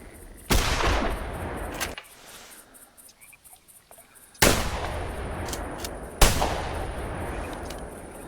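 Three loud, sharp shotgun blasts from an over-and-under shotgun fired at ducks in the hunting game theHunter Classic, set in a bayou. Each blast leaves a long decaying tail, and insects chirp quietly in the background.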